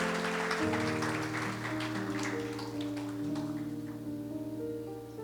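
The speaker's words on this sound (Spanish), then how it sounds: "Denle un fuerte aplauso al Señor" Church congregation applauding over sustained organ or keyboard chords, the clapping a steady broadband wash that fades slightly toward the end while the held music continues.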